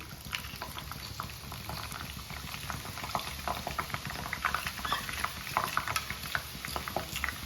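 Boondi batter dripping into hot oil for Kerala-style mixture, a soft continuous fizzing and bubbling with fine crackles, quiet and steady throughout with no talking.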